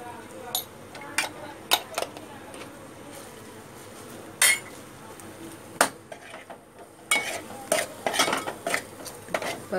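Cluster beans sautéed with red masala in a pan are stirred, a spatula clanking and scraping against the metal in irregular sharp knocks over a faint background sizzle, with a voice talking now and then.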